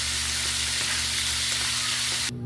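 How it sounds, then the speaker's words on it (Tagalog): Marinated pork frying in a pan, with a steady, dense sizzle and crackle throughout that cuts off abruptly at the end. "Ganyan lang pagprito guys."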